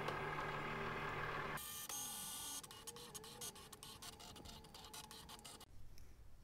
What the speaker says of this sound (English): Okay, so the machine has finished making the cuts